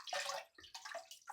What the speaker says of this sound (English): just basically just cupping the water so it doesn't disturb the fish too much